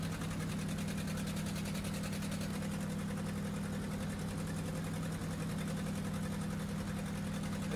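A truck engine idles steadily in the Farming Simulator 2013 video game, a low, even throbbing hum that stays constant and fairly faint throughout.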